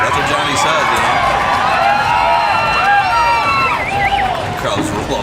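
At a demolition derby, a crowd roars and cheers continuously, a dense wall of voices with whistles and shouts riding over heavy noise, while people speak nearby.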